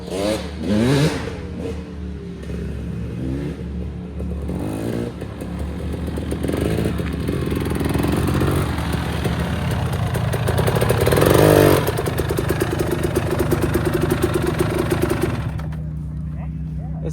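A motorcycle ridden with a twist throttle, its engine droning and rising in revs as it rides up, with someone talking over it.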